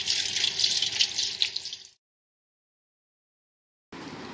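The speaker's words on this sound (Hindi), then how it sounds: "मैंने इसका पानी मैक्रोनीज का निकाल के अब मैं ठंडे पानी से इसको वॉश कर रही हूँ।" Cold tap water runs steadily over boiled macaroni in a colander for about two seconds, stops, then briefly starts again.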